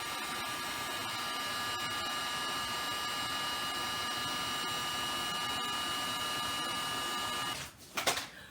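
A heat tool blows steadily and loudly while embossing powder is melted on a card sentiment, a constant whirring hiss that runs for most of the stretch before switching off with a few clicks.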